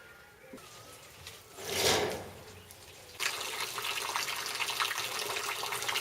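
Water runs and trickles through a homemade corrugated metal gutter joined with rivets, a soft splashing flow that swells briefly, then settles into a steady, brighter stream spilling out at the end.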